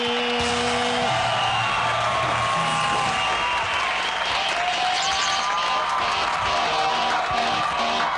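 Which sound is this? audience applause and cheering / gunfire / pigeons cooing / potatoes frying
audience applause and cheering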